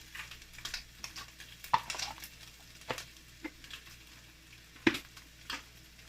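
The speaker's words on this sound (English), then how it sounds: "Now you put in some cubic sugar, let it melt." Sugar cubes melting in a pan with pork ribs, a soft sizzle and patter with scattered sharp crackles and pops, close and quiet, irregular bursts over a low hiss.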